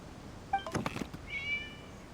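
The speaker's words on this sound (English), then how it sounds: "It was just a cat." A short cat meow from a video game, slightly synthetic in tone, followed by a second higher drawn-out mew, both fairly quiet over faint background hiss.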